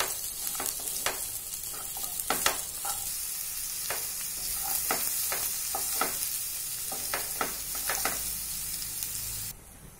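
Onions and grated ginger sauté in a pan for dhaba-style Khandeshi shev bhaji, a steady close sizzle under irregular spoon scrapes and taps against the pan, continuing throughout.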